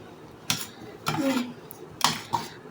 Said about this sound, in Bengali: মানে ওই দেখো কী করে ওই খিচুড়িটা একটু নেড়ে ছেড়ে নিলাম